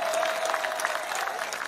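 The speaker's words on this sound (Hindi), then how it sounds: "एक बार ताली बजा दो जीपी के लिए" A crowd at a political road show claps steadily and loudly, a dense patter of many hands with faint voices mixed in.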